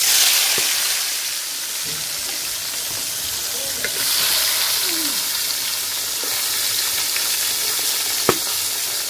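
Koi fish rubbed with salt and turmeric frying in hot mustard oil, a strong, even hiss and sizzle throughout with a few faint clicks, close and steady with no talk.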